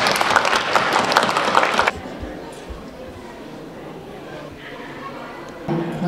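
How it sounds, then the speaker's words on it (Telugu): An audience claps for young child performers at an Ugadi cultural program, a dense burst of applause for about two seconds that then cuts off, leaving a quiet hall with faint background noise. "వాళ్ళందరినీ మీరు చప్పట్లతో ప్రోత్సహిస్తారనుకుంటున్నాం."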